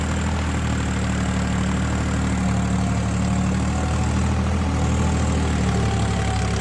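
A steady, low tractor engine, a new 855 model, idles continuously, a loud constant rumble with a faint vibrating hum and no speech.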